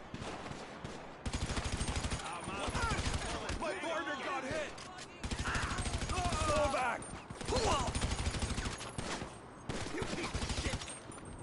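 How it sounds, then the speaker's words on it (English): Enemy gunfire in a GTA V Online match comes in rapid bursts and fusillades, clusters of shots separated by brief lulls, with a player speaking over the action. "Damn, they were shooting me from everywhere."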